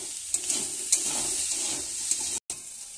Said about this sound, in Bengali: প্রায় সেদ্ধ হয়ে গেছে ভাজাটা, সব একসঙ্গেই ভাজছি।